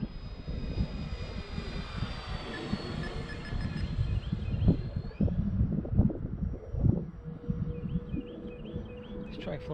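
A Freewing AL37 RC model jet flies overhead at a grassy field, its whining engine drone rising and falling with passes, while onlookers talk over it nearby.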